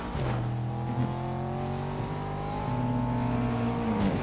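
A car engine in a battle royale video game, revving loud and close with a steady drone and shifting pitch, with a few quick changes in tone along the way.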